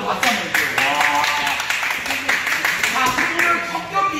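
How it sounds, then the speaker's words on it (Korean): An audience claps for a commentator at an amateur sparring event, with scattered, lively clapping running under a man's speech. "강유마 선수의 해설 여러분들 바로 박수 한번 주세요."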